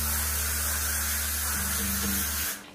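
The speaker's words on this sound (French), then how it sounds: "je vais me faire un dernier petit coup de spray net" Hairspray spritzed onto freshly curled hair in a salon setting, a continuous close hiss over a low hum lasting about two and a half seconds, then cutting off.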